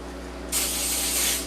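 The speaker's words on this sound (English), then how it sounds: "I just use a coconut oil spray." Coconut oil cooking spray hisses onto a preheated waffle iron in a single steady burst of about one second, close and fairly loud, with a brief pause before a last short puff.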